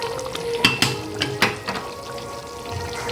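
Mutton curry is stirred with mutton masala in a pan, with a spoon scraping and clanking against the metal over a soft, steady sizzle.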